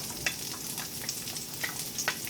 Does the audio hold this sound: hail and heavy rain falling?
no